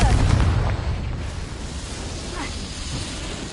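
A Confringo spell explosion in the video game Hogwarts Legacy: a loud blast hits at the start, and its deep rumbling roar then fades slowly into a steady, noisy tail.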